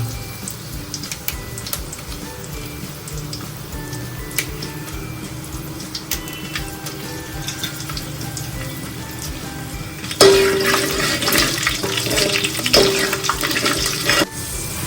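Dried red chillies crackling in hot oil for a Telugu dal tempering, a steady sizzle that suddenly turns louder and brighter partway through, with no talking.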